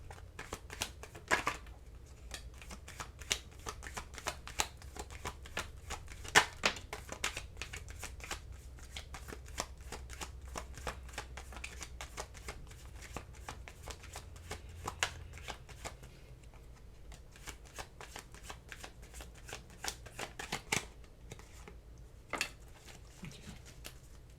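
Tarot cards being shuffled by hand in a reading, a continuous close-up rapid patter of riffling and sliding card stock with small irregular taps, steady throughout without talk.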